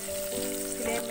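Oil sizzles and crackles in a pan on a medium flame for a brief moment, with a steady close frying hiss and faint tonal hum underneath.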